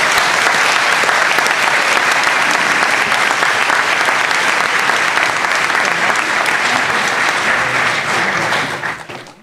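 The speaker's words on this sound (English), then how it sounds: "Would you please join me in a round of applause to show our appreciation?" A large graduation audience at a spring doctoral hooding ceremony gives a sustained round of applause, loud and dense from start to finish, then tapers off sharply in the final second.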